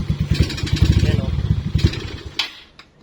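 A motorcycle engine running lean on a cold start sputters with a rough, uneven pulsing idle close by, fading out near the end as someone speaks briefly.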